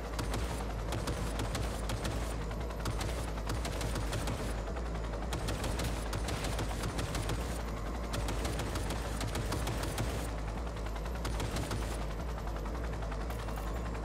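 Sustained gunfire in Cyberpunk 2077 during a raid on Arasaka Tower, with dense, continuous bursts of shots over a steady low engine-like rumble throughout.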